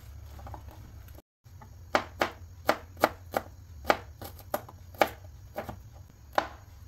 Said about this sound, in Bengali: একটা রসুনের হাফ রসুন আমি কুচি কুচি করে কেটে নিয়েছি।